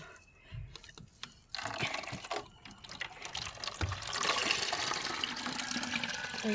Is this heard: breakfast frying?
no